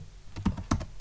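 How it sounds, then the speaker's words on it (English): Quick burst of keystrokes on a computer keyboard as a Linux command is typed, about half a dozen crisp clicks close up in an uneven rhythm, with no talking. "now if I type ls minus l var"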